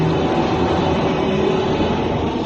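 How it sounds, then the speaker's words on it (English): A steady, continuous rumble of an urban link train running toward a small spaceport near Croydon, with even low roar and faint hum filling the whole stretch, no voices over it. "Foom and Drone board an urban link train that carries them to a small spaceport near Croydon."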